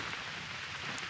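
Steady rain falls at a remote lake campsite on Vancouver Island, a dense continuous patter of drops on surfaces, even in level and close, with no voices.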